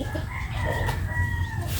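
A rooster crows over a busy background of clucking chickens and low farmyard noise, fairly close and steady.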